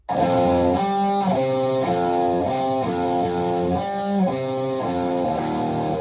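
Picked electric guitar notes from a song intro ring out in a repeating, evenly timed pattern with a slightly distorted tone, played alone and steady.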